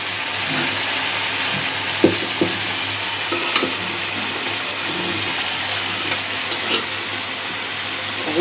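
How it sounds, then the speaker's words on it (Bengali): Steady sizzling and frying of a rohu fish curry masala with tomato and salt in a pan, with occasional stirring clatters over the constant hiss. "দেখেন আমার রুই মাছের মশলাটা কত সুন্দর করে কষাইছি আমি।"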